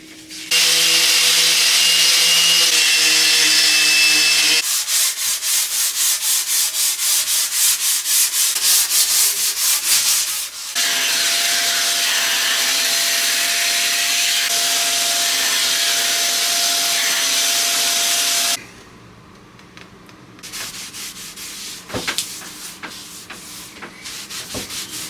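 Power sander working an oak table top with 240 grit sandpaper, a loud, steady buzzing drone with scratchy abrasion that runs in long stretches, shifting in pitch as the tool moves and quieter toward the end.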